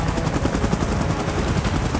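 A helicopter hovers steadily in a video game evacuation mode, its rotor thudding close and loud throughout with a dense, continuous wash of engine noise and no talk.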